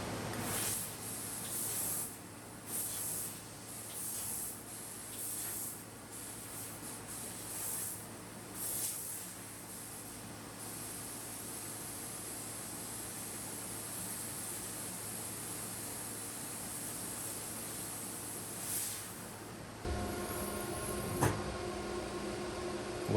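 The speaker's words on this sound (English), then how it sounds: "Okay, I cut that out with compressed air again." A DIY fiber laser tube cutter with a Raytools BM110 head cuts 24 gauge aluminum using compressed air, producing a steady, loud hiss for about twenty seconds with brief surges before it changes tone near the end.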